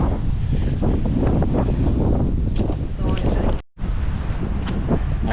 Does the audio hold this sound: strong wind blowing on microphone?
yes